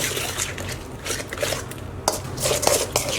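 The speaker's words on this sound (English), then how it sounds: "we'll crack in 2 whole eggs. And we just want to mix this all together" Tomato sauce and two whole eggs being mixed together in a bowl for a slow cooker meatloaf, a wet stirring and squelching sound with soft utensil scrapes, close and moderate in level with no talk.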